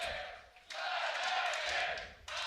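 An esports arena crowd cheering at a League of Legends match between Fnatic and G2: broad, roaring surges of shouting fans that rise, dip briefly and swell again, heard fairly distant and steady.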